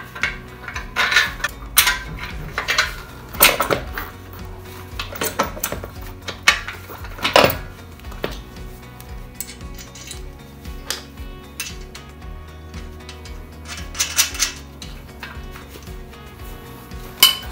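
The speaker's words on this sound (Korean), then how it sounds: "볼트 쪽을 자, 사각형 홈에 맞도록 잡아주시고 공구 활용해서 조여주시면 됩니다." Bolts being tightened with a hand tool while assembling an EX510 incline bench, with clinking metal taps, ratcheting clicks and scraping of parts handled close by, in irregular bursts.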